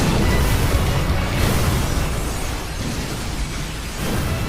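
A massive meteor explosion's aftermath in One Punch Man roars on, a thick rumbling blast of noise with heavy low-end that swells and surges without pause.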